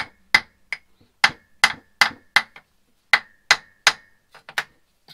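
An old hammer's claws work at a 4-inch drain cover, giving a run of sharp, separate metallic knocks and clinks at an irregular rhythm, close and fairly loud, with quiet gaps between them.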